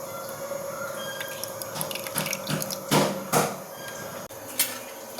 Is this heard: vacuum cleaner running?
no